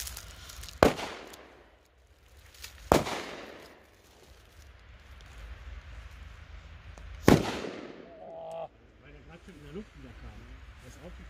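Funke A-Böller firecrackers detonate outdoors at New Year's Eve, three sharp loud bangs spaced a couple of seconds apart, each trailing into a noisy echoing decay, with a voice speaking briefly near the end.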